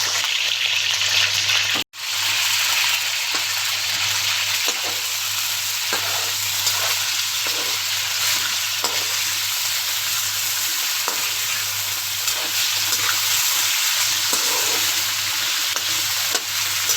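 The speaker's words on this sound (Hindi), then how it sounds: "मैं इस चिकन को इसमें हल्का सा फ्राई कर लूँगी" Chicken pieces frying with garlic and onion in a pan, a steady loud sizzle that runs continuously through the whole stretch, with brief stirring scrapes and one short break near the start.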